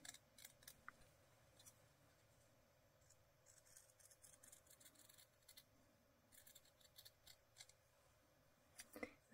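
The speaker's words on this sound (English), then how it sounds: "I'm just going to cut around on the pencil line" Scissors snipping through fabric along a pencil line in a quiet room, with short, irregular bursts of close cutting and small pauses between them.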